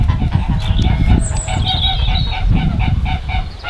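A grey goose sitting on her nest in a bramble patch gives continuous low cackling honks and clucks, close and loud, with no talking over it.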